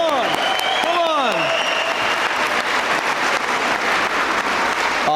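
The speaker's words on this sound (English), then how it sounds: "Hey, one more round of applause" Applause fills the hall at an 8th grade graduation ceremony at an elementary-middle school, steady and sustained, with a short whistled or sung tone and a voice rising over the clapping early on.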